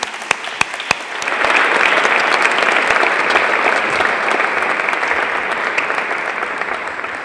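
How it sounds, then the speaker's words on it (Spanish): A few scattered early claps swell into a full round of applause as an audience welcomes a speaker at an academic conference day on the Spanish language. The clapping stays sustained and even until the end. "ecibimos al doctor Miguel Blázquez Carretero con un fuerte aplauso, agradeciéndole su presencia en esta jornada."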